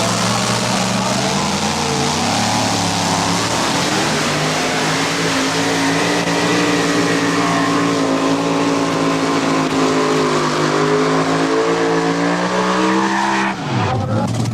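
A Keith Black-powered Dodge two-wheel-drive pulling truck at an NTPA tractor pull roars loudly and steadily, its engine note climbing in pitch through the run before cutting off near the end.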